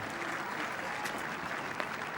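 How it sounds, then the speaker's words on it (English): A crowd at a 2012 ATP Qatar Open tennis match between Rafael Nadal and Denis Gremelmayr claps steadily and warmly throughout, a dense even patter of many hands with a faint murmur of the crowd. "Generous round of applause"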